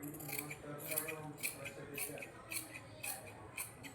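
Scissors cut blouse fabric in a quick run of crisp, close snips at a steady rhythm, with no talking.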